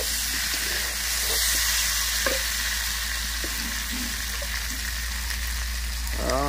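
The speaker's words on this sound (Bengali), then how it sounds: "তো এখন ঝোল দিয়ে দেবো, ঝোল দেওয়ার সময় হয়ে গেছে।" Broth is poured into a pan of frying local chicken curry, sending up a steady, loud sizzle and hiss with stirring scrapes throughout, close by and without talk.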